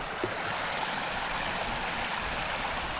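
Steady rushing water from a river or waterfall pours continuously over rocks in the Scottish Highlands, a broad even wash of flow that stays constant throughout.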